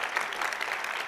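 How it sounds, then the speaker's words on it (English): At a DesignTalks session during DesignMarch 2022, an audience gives a brief, moderately faint round of applause for the moderator taking the stage, a steady wash of clapping. "Give him an applause."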